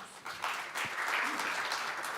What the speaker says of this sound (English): another round of applause for our esteemed panelists and yourselves